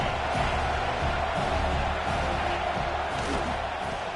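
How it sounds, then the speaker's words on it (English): A football stadium crowd roars in a steady, dense wash of cheering and shouting, loud and sustained. "This crowd knows when to bring it."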